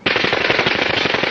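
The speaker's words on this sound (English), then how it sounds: "They opened fire and the night sky was ablaze. The gunfire from the Uzi just lit up the place." A loud, sustained burst of rapid automatic gunfire, fast evenly spaced shots from a submachine gun, close and continuous.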